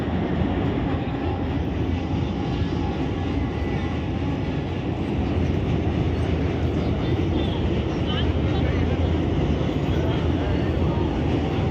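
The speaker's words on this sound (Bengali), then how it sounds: "এই যে দেখো ট্রেন যাচ্ছে" A train rolls across a bridge at a crowded Maha Kumbh bathing festival, a loud, steady rumble and clatter that fills the whole stretch without letting up.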